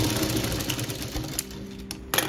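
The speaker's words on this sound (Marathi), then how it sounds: "गोलामध्ये टिप मारणार" A sewing machine stitches lace onto a round cloth, a close, rapid mechanical whir with a steady stitching rhythm lasting about two seconds, ending with a small clunk.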